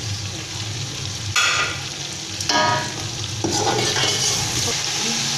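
Whole spices, among them coriander, cloves and cinnamon pieces, fry in hot oil for a chicken biryani, giving a steady close sizzle with a few louder crackling surges as the pan is stirred.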